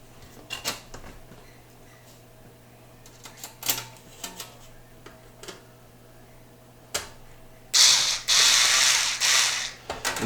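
Screws are driven in by hand while the bottom cover goes back onto an RCI/Galaxy Big Box CB radio: sharp ratcheting clicks in bursts, then a louder extended rasping run near the end, close up.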